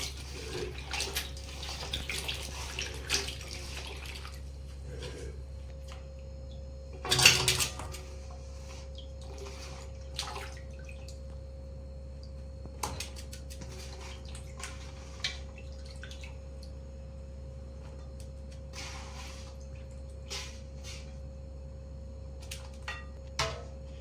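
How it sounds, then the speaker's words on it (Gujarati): Mango seed kernels are swished and rinsed in a bowl of water, giving soft sporadic drips, splashes and light clinks of the vessel against a faint steady hum, close and quiet. "આ રીતના 2 કે 3 પાણીની અંદર આપણે સરસ ગોટલી ધોઈ નાખવાની."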